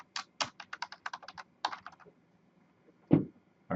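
Keys clatter on a computer keyboard as a command is typed into a terminal prompt: a quick run of close, crisp clicks, then a pause and one heavier keystroke, like Enter being pressed.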